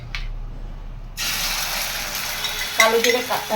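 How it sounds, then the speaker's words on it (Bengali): An omelette fries in oil in a kadai, a steady hissing sizzle that swells partway through, followed by scraping and clinking of a spatula toward the end. "এই তেলের মধ্যেই আমি অমলেটটা করে নেব।"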